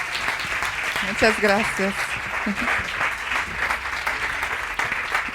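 Audience applause welcoming a speaker to the stage at a women entrepreneurs' seminar, a steady wash of clapping throughout with a voice speaking briefly over it.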